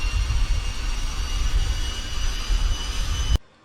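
Pilatus Porter turboprop engine running just after starting in Microsoft Flight Simulator, with a steady loud roaring drone and a high whine that cuts off abruptly near the end.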